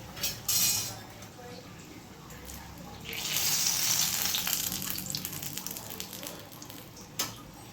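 Food frying in hot oil in a home kitchen while papdi chaat snacks are made, a steady sizzling hiss that swells midway, with a few utensil clinks and a sharp knock near the end.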